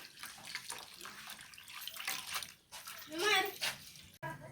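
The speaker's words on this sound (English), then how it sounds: "So we now pour our water. This is my clean boiled drinking water. So I'm pouring it." Clean boiled drinking water is poured into a container while making traditional African passionfruit juice. The steady, faint splashing and trickling runs beneath someone talking.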